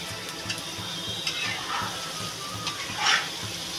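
Paneer cubes frying in a pan for a vegetable pulao, giving a steady, moderate sizzle with a few brighter crackling bursts, with no voices.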